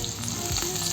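Fish fries hard in plenty of oil, a steady close sizzle with faint stirring scrapes running throughout.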